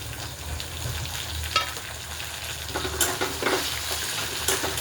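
Chopped tomatoes tossed into sautéed garlic and onion frying in oil, a steady close sizzle with stirring scrapes and a few utensil taps.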